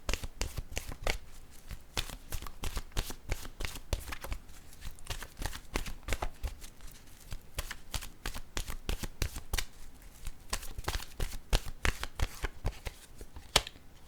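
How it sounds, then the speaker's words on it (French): Oracle cards being shuffled and drawn, giving a steady run of crisp riffling snaps and flicks close up, with no voices over them. "Je vais piger maintenant une carte de mon oracle de l'âme intuitive."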